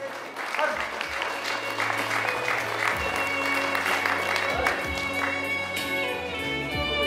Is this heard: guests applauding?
yes